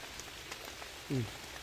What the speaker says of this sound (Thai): ฝนตกครับตกลางกลางสายฝน